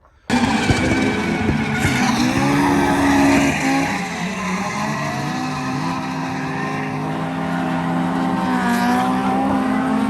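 A tuned Toyota AE86 engine built by a Nagoya shop, Koizumi Shokai, with flat-slide FCR carburetors. It bursts into loud, high revving and holds a sustained rasping note with pitch swings that ease off and rise again.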